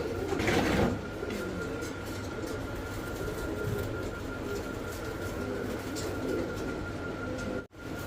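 Pigeons coo softly at a busy pigeon sale centre, low murmuring calls under a steady background hum, with a brief louder burst near the start.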